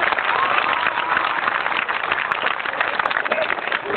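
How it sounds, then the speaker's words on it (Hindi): An audience at a live stage show claps to welcome a guest, steady dense applause filling the whole stretch at moderate loudness with no voices on top. "एक बार चाहूंगा कि मेरी ओर से उनके स्वागत में आप ताली बजाएं"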